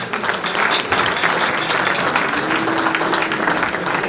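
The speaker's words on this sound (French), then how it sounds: "je vous prie d'applaudir très très fort pour Diko" A crowd at a life celebration for a late father in Washington DC claps loudly and steadily, a full room of hands sustained for about four seconds without speech.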